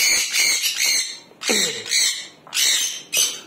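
Bird calls from a newly added bird in an outdoor breeding aviary, with repeated bright, squawky bursts, each lasting about half a second, separated by short gaps and heard close and fairly loud.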